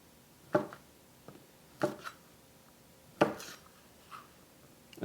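A knife slicing moose bratwurst sausages with jalapeños in half on a cutting board, several separate soft thunks spaced about a second apart, quiet and close.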